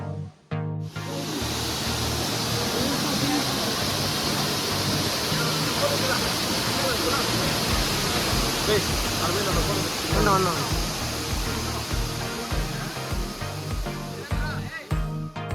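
Abbi Falls near Madikeri in Coorg, heard as a loud, constant rushing roar of falling water that fills the whole stretch, with a voice talking faintly underneath.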